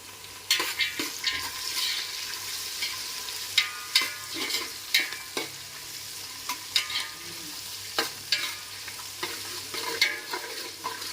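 Cashews fry in a pan for coconut rice, a steady close sizzle punctuated by repeated sharp scrapes and clacks of a spoon stirring against the metal, uneven in rhythm, with no talk.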